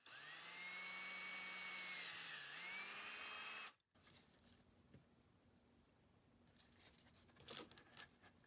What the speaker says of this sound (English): Now I'll just drill holes in the handle